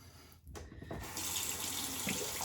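Cold water runs from a bathroom tap into a sink, starting after a brief clatter and settling into a loud, steady hiss and splash close by, with no talking.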